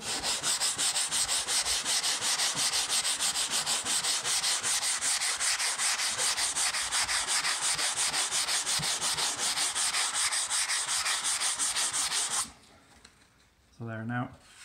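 Steady rhythmic sanding of dried drywall joint compound on green board, a loud, close, continuous scratchy rub that stops abruptly near the end, after which a voice briefly speaks.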